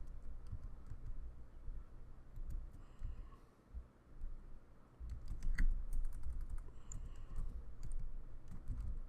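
Keys tapped on a computer keyboard while entering a MariaDB database command, a quiet, irregular run of soft clicks over faint room hiss with a brief pause midway.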